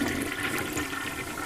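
A toilet flushing with steady, rushing water, loud and continuous throughout, with no talking.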